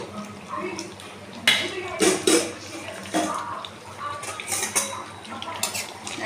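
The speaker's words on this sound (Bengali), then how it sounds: "এবার আমি মটনের ঢাকনাটা খুলছি" A metal lid lifts off a pot of simmering mutton, giving a few sharp clinks and scrapes of metal against metal over a low background hiss, with soft utensil clatter throughout.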